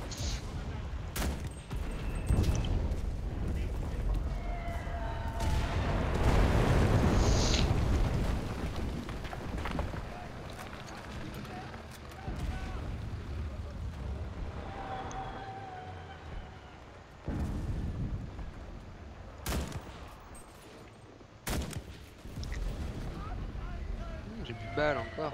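HE grenade and artillery explosions in the video game Enlisted rumble through a battle, with a heavy run of blasts and gunfire building midway and sharp isolated bangs later. People talk over the fighting.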